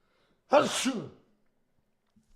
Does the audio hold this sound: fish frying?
no